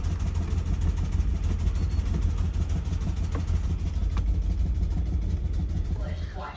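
A 2008 Ford Expedition engine idles with a rough, uneven shudder, a steady low rumble heard up close throughout, fading slightly at the end.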